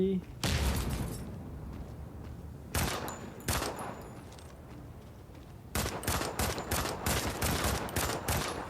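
Bursts of close, loud gunfire crackle in the mobile shooter Modern Combat 5: Blackout, with rapid volleys coming in clusters and becoming sustained near the end.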